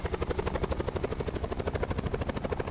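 Helicopter flying in a Call of Duty Blackout beta match, a steady rapid rotor chop pulsing evenly and loudly throughout with no talking.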